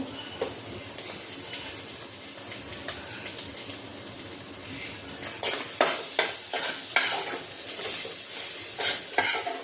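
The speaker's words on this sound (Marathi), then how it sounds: "हे मी बटाटे सोलून उकडून घेतलेले आहेत ते बटाटे टाकते यामध्ये" Peeled boiled potatoes hit hot oil with fried chili flakes and sizzle steadily, then a spoon scrapes and stirs them in the pan with rhythmic clattering strokes that grow louder toward the end.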